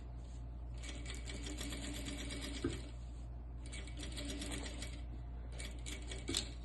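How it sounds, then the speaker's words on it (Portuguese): A sewing machine stitches a seam on an ecological cloth diaper, giving a steady mechanical whir with brief pauses near the middle and end. It is heard up close with no talking. "Pode passar a costura bem em cima da linha de divisa"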